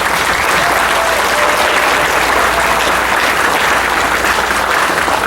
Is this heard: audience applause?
yes